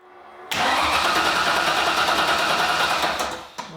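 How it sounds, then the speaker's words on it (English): Steady mechanical whirring drone from the fuel pump running on a 1995 Ford Mustang GT, starting abruptly, holding loud and even for about three seconds, then cutting off, with no talk. "I'll let the pump run a little bit."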